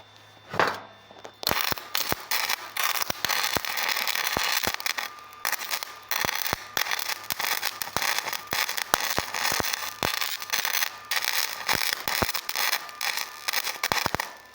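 Welding metal gives a dense, continuous crackle with sharp popping bursts at irregular rhythm, loud and close, and no talking throughout.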